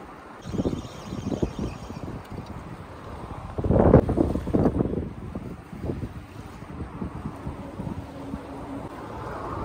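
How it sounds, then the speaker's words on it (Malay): Strong wind buffets the microphone on the Penang bridge at night, a steady roaring rush with heavy low gusts that swell loudest around the middle before settling back to a constant blustery drone. "Oh, angin kuat padu."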